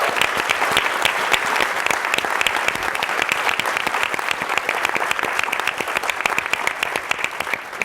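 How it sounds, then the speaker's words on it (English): A large conference audience gives sustained, even applause for event staff, many hands clapping in a dense, continuous patter with no break for nearly eight seconds. "if we could begin by just giving them a round of applause"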